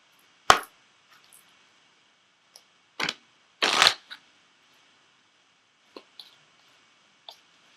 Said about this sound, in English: So I am going to pull an Ascended Masters card for you.